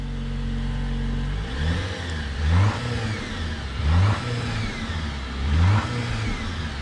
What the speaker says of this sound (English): See if I can give it a rev, if you can hear that turbo.